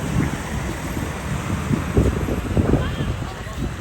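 Strong wind buffets the microphone outdoors in central Pattaya, a continuous rough rumble with gusts, and a person keeps talking underneath it.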